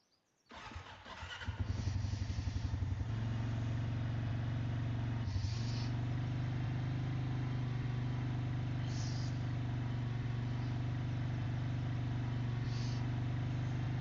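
A four-wheeler engine on a farm catches and settles into a steady, loud idle that drones on unchanged for over ten seconds, close by.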